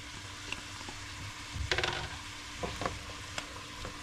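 Sausage goes back into a pot and sizzles with quiet frying hiss, punctuated by a few scraping stirs and clinks of a utensil against the pot.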